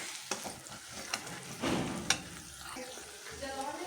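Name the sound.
stirring chili and turmeric powder with fried ginger, garlic, cumin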